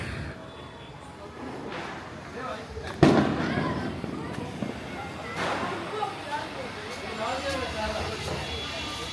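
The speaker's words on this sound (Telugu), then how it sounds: "క్లైమాక్స్లో ఒక చిచ్చుబుడ్డి ఉంటే ఆ 4 బాంబులు ఫినిష్" Diwali-style firecrackers and fireworks burst outdoors, with one sharp loud bang near the middle and scattered crackles and pops around it, while people talk in the background.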